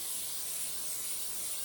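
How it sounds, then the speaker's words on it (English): Cooking spray hisses steadily onto plastic wrap that will cover bread dough, a faint, continuous close spray lasting under two seconds with no talk. "So I am going to spray this saran wrap"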